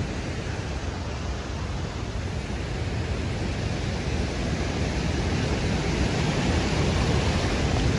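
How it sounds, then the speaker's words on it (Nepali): A waterfall close by on a hillside trail at Ronga, giving a loud, unbroken rushing roar of falling water that stays even throughout, with no voices. "यो उता पाटिपट्टि झर्ना छ"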